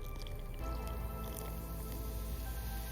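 Apple cider vinegar and water poured into Aztec clay powder, giving a soft, close fizzing and wet squishing that runs steadily and quietly.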